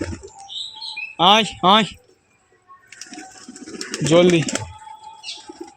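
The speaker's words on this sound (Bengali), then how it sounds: "আয় দেখো উপরে এখনো পায়রা রয়েছে।" Pigeons coo and chirp around a rooftop coop, soft and close, with a few calls scattered through the clip while a person calls out to them in between.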